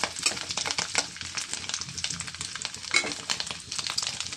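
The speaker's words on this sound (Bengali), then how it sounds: "নারকেল ভাজা মোটামুটি হয়ে আসছে" Grated coconut frying in a pan sizzles steadily, with a spatula scraping and stirring in irregular strokes close up, no voices over it.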